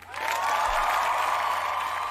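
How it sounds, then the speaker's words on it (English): Applause sound effect: a dense burst of clapping that swells quickly and holds steady for about two seconds, with no voices over it. "I'm gonna give you some claps here."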